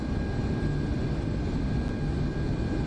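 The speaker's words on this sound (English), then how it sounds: "I just want to see the engines open up." Jet airliner engines of a 737 MAX in Aerofly FS Global, a steady broadband roar with low rumble and a faint high whine, holding loud and even throughout with no talk.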